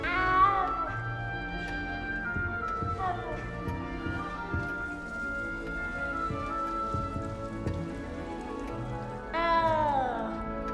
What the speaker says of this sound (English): good luck finding that cat